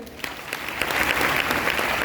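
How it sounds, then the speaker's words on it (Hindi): An audience bursts into applause at a seminar-style gathering, the clapping starting sparse and quickly building into steady, dense hand claps that fill the room. "जोरदार ताली"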